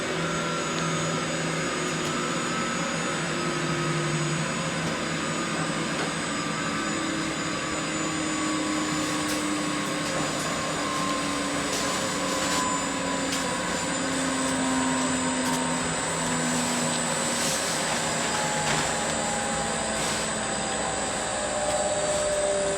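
A washer extractor industrial laundry machine on a soft mount runs steadily with a continuous droning whir and a faint high whine, loud and unbroken throughout, with no talking.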